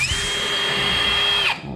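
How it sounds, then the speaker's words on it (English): Power drill whirring steadily for a bracket hole while a window blind is hung, one continuous close, loud run of under two seconds that winds down sharply at the end. "And then drill this one."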